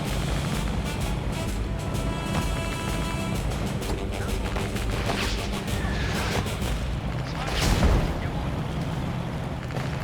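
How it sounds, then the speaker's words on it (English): Artillery fire in a war strategy video game, a continuous rumbling barrage of booms and distant blasts with a stronger impact near the end, under steady dense battle noise. "There's some artillery going off too."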